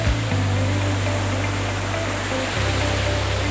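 A strong river current rushes in a steady, broadband roar, close and continuous, with a low hum running underneath.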